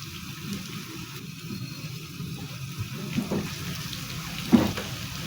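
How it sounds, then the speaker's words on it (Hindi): Water is poured into a pan of potatoes and vegetables on the stove, a soft, fairly faint wash of liquid with a couple of small splashes near the end. "अब तकरीबन मैं इसमें हाफ गिलास पानी का डालूंगी।"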